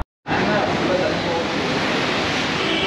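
Rushing water from the Athirappilly waterfall in monsoon roars in suddenly after a brief silence and continues as a loud, steady, broad wash of sound.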